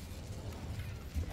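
An Incendio fire spell cast in a Hogwarts video game gives a short, muffled burst of flame with a low rumbling roar that swells near the end.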